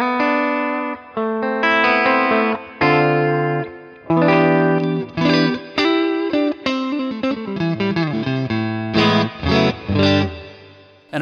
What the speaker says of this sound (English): you can turn the reverb up and down